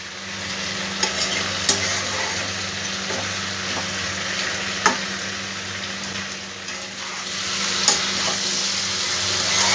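Fish head and bitter gourd leaves are stirred in a hot pan, with a steady sizzle and frying hiss and occasional scraping clinks of the spoon against the pan.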